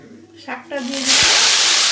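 Leafy greens hit hot oil already holding fried lentil dumplings, a dried red chilli and nigella seeds, setting off a loud, sustained sizzle that swells and holds steady after a brief voice.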